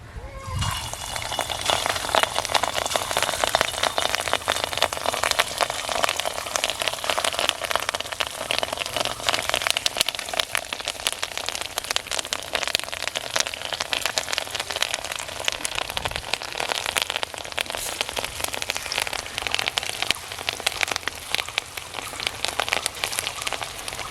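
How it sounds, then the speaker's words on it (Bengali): Katla fish roe fritters frying in hot oil in a kadai, a dense, continuous sizzle and crackle that keeps up steadily throughout, close by and fairly loud, with no voices over it. "তেলটা গরম হয়ে গেছে, এবার ডিমের বড়া ভাজবো"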